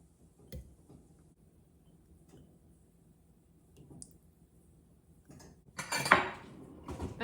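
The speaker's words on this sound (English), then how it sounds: "we're just gonna pack as many peaches in here as possible" Peaches pressed into glass canning jars, with faint scattered clinks and then a louder clatter of glass and utensils near the end, in a quiet kitchen.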